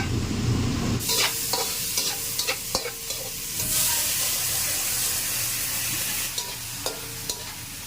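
Sotanghon glass noodles fry in margarine in a pan, with a steady loud sizzle and repeated scraping, clattering stirring strokes close by, the hiss swelling partway through.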